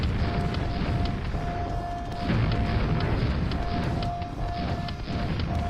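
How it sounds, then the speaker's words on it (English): Booming bomb explosions in the video game Quake roll on continuously as a dense, loud rumble. A steady tone and scattered sharp clicks sit on top of it. "As I'm still getting exploded pretty badly here"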